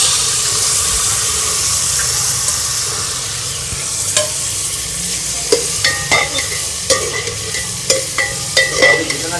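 Carrot and pea curry stirred in a frying pot in a Sindhi home kitchen in Karachi, with a steady sizzling hiss throughout and scraping strokes of the spoon that grow more frequent and distinct toward the end.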